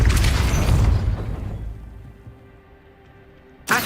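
Depulso spell cast in a Harry Potter style video game: a loud rumbling magical burst that fades over about two seconds into quiet, then a sharp new hit at the end.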